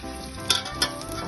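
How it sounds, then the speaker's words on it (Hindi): Onions sizzle and fry in hot ghee for chicken biryani, a steady close crackle with a couple of brighter bursts as they are stirred, no voices. "ये देखिए सर, हमने प्याज डाल देनी है और प्याज को आपने नरम कर देना है।"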